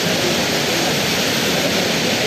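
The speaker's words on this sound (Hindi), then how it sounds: "आप लोग देखिए झरने को।" Kempty Falls in Mussoorie, a mountain waterfall, gives a steady, loud, broadband roar of rushing and splashing water with no pauses.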